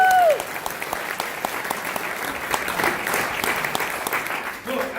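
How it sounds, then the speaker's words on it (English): Audience applause, a dense steady wash of clapping from a crowd at a live event, sustained for several seconds with a brief voice at the start. "Give Eddie a round of applause"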